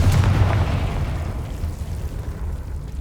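A fiery Confringo spell blast in Hogwarts Legacy rumbles heavily with a sharp onset, then rolls into a sustained, low, booming wash that lingers without any voices.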